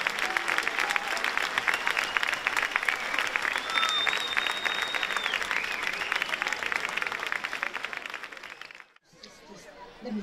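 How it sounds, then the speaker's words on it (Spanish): A large crowd applauds loudly and steadily at a sports gala held in a gymnasium, dense clapping mixed with cheers and a whistle, then cutting off sharply near the end before faint noise resumes. "Un aplauso muy fuerte para ella."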